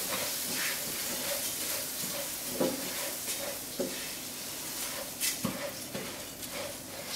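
Basmati rice fries in butter in a hot pot, giving a steady soft hiss with scattered crackles and a few louder knocks from the spoon against the pot.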